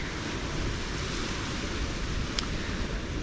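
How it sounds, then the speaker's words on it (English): A southeasterly wind blowing at the seashore at Penarth, a constant loud roar of rushing air and surf-like noise with no pauses or voices. "We have got a bit of a southeasterly wind as well."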